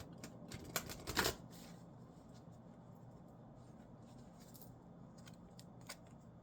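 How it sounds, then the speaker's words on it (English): Chakra cards riffled and shuffled in a short close burst of papery flicking, followed by quiet faint handling noise, soft and near. "I'm going to get a chakra card."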